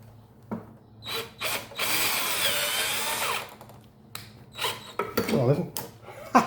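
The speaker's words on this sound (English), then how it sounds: "Can I do it with that drill setup, or do I have to drill a pilot hole?" A power drill boring into a part of a Craftsman lawn mower, a dense whirring burst of about two seconds between shorter bursts, close and fairly loud, with scraping handling noises and brief voices around it.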